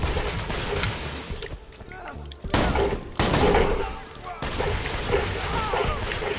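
Rapid bursts of gunfire and grenade blasts from the Borderlands video game, loud and dense, with sharp explosive thumps around the middle and continuous shooting throughout.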